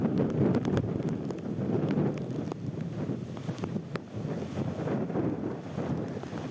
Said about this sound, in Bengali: এই মুহূর্তে ঝোড়ো হাওয়া বইছে কুলতলিতে